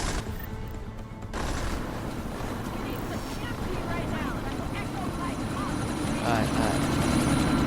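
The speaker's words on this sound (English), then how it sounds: "That chopper's about to take off." A helicopter in Deus Ex: Mankind Divided lifts off with a loud, steady rotor roar and engine whine that builds slightly over several seconds, while voices speak over the noise.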